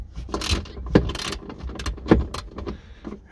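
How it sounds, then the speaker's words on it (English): Bolts on a Lotus Exige 390 Final Edition loosened with a 6mm hex bit, giving a few clicking, ratcheting mechanical bursts with two sharper metallic knocks, close and fairly loud with no talking. "And then just basically undo those bolts."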